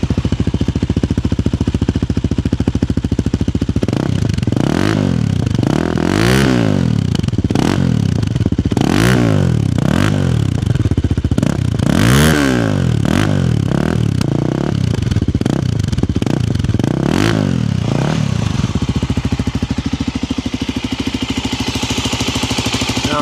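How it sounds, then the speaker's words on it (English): Loud, close exhaust note from a Voge 300 Rally motorcycle, idling with a steady thrum, then blipped repeatedly in rising and falling revs before dropping back to idle. "And we'll give you the exhaust notes on the back."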